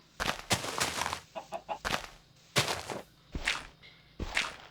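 Chickens clucking in a farm-themed video game: a series of close, short clucks and squawks in irregular bursts, with no talking.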